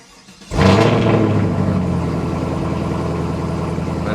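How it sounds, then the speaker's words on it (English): A 2016-or-later Chevrolet Camaro Z engine starts with a sudden loud catch after a brief quiet moment, then settles into a steady, deep, rumbling idle close by. "First time I start these things up, it always"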